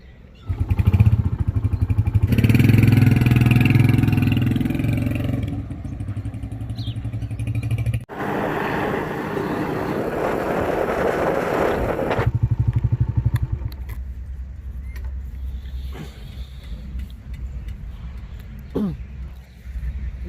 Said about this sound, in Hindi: अपनी ये बाइक भी रेडी है